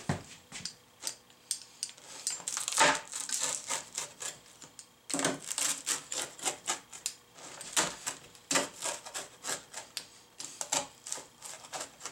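Repeated crunchy cutting strokes in quick, uneven rhythm, a cutter working through pizza crust against a styrofoam plate, close and fairly loud, with brief pauses.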